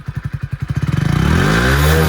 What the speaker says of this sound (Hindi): यह है इस बाइक का BS6 साइलेंसर। तो अभी सुनाते हैं आपको इस बाइक